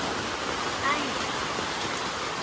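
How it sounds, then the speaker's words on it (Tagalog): Heavy rain pours down in a steady, dense hiss, loud and close, as a dense wash of noise with no breaks and no distinct voices. "It's raining, man."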